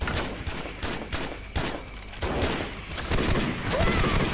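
Dense, continuous gunfire from the co-op military shooter Joint Operations: Typhoon Rising, bursts of automatic fire and sharp shots layered over one another with heavier thumps, steady and loud throughout.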